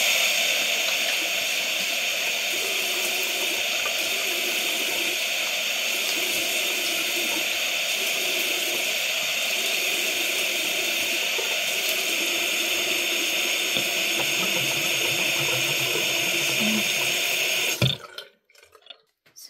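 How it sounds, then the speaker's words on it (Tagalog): A tap runs cold water steadily into a sink for face washing, a constant close splashing rush that stops abruptly near the end, leaving faint handling sounds. "So, i-wash na natin. Gamit lang tayo ng cold water."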